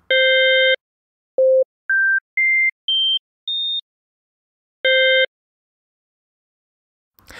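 A chord of pure tones sounds, then single sine tones step upward one by one, and the full chord returns before silence.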